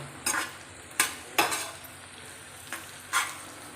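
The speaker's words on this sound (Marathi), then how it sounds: "तर हे छान असं परतून घेते" Okra and potato masala being sautéed in a pan, with a spoon scraping and stirring in several distinct strokes over a faint background sizzle, close and moderately quiet.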